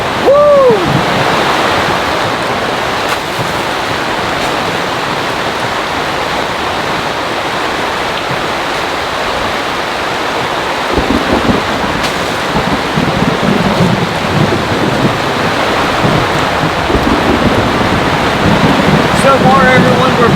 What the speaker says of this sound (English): the amount of rain is overwhelming this tarp